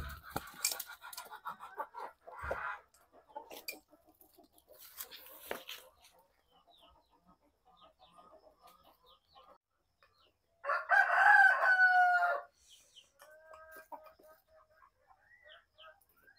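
Chickens cluck in scattered short calls while a rooster lets out one loud, drawn-out crow partway through, with quiet gaps between and a voice speaking briefly.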